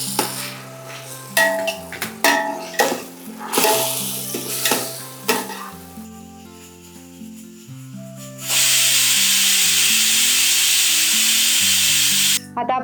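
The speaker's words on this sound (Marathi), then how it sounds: "आता शिमला मिरची पण थोडी परतून झाली की आपल्याला लगेच हा सगळा टोमॅटो पण त्यात ऍड करून घ्यायचा." Capsicum and tomatoes sauté in a pan for pav bhaji, heard as spatula scrapes and stirring strokes over a sizzle that later turns into a loud, sustained hiss, with a bright musical tone running beneath.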